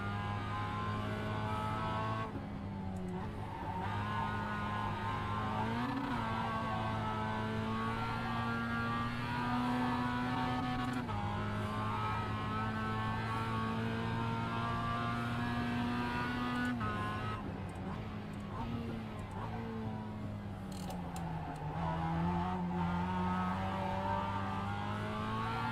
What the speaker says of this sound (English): Try and do a little bit of drifting.